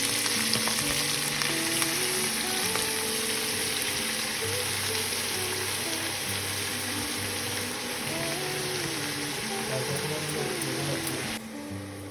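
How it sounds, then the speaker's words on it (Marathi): Fenugreek leaves fry in a pan with a steady, close sizzle and crackle, occasionally stirred, continuing evenly with no talking. "एक 10 मिनिटं अशी मेथी परतून घ्यायची आणि वेगळी अशी काढून ठेवायची"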